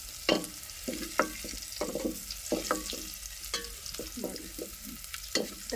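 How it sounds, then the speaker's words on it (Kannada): Garlic frying in a pan until golden, with a steady sizzle broken by repeated scraping stirs at an uneven rhythm, close and fairly quiet with no talk. "ಈ ಬೆಳ್ಳುಳ್ಳಿ ಒಂದು ಸ್ವಲ್ಪ ಗೋಲ್ಡನ್ ಕಲರ್ ಬರ್ತಕ್ಕ ಫ್ರೈ ಮಾಡ್ಕೊಬೇಕು"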